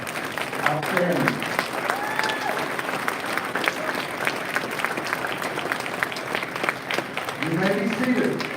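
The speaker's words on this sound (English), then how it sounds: "Let's give them one more round of applause" Audience at a school board meeting gives a sustained round of applause, with loud dense clapping throughout and brief voices or cheers rising near the start and end.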